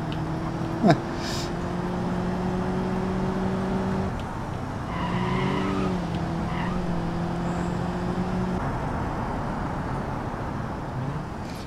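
A car drifts in BeamNG.Drive, its engine droning steadily at close range while tires squeal in sustained skids, with a brief sharp knock near the start.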